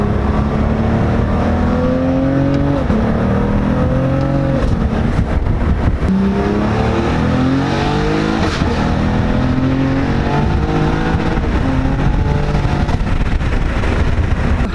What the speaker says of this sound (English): Try to get a couple of downshifts here. The burble is noticeably different.